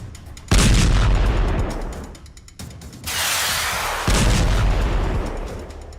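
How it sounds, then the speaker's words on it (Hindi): Heavy blasts from drone bombs at the Fujairah oil site in the United Arab Emirates, several loud booming impacts with rumbling, crackling aftermath between them, no voices. "धमाके ड्रोन बम के हैं।"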